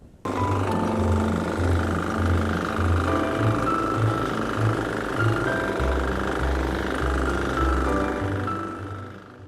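Sharp Garuda mini weeder with a diesel engine, about eight years old, running steadily close by with a loud, continuous chugging throb and a rhythmic low pulse throughout.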